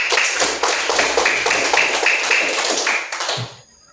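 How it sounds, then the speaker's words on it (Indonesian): Classroom applause from a group of pupils: dense, steady clapping for about three seconds that quickly dies away into quiet. "Bagus, tepuk tangan."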